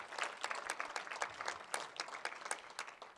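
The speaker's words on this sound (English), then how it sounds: "Both you guys get a nice round of applause" An audience applauding at an event honoring two organizers, a brief round of dense, fairly faint clapping from many hands with a steady rhythm and no speech.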